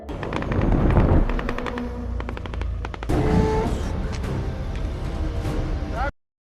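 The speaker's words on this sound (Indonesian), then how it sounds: "Kedua kubu lalu sama-sama bersembunyi sembari terus melepaskan tembakan satu sama lain" Battle gunfire exchanged between two sides under cover, with loud sustained bursts and sharp cracks over a rumbling low din, swelling again midway before cutting off abruptly.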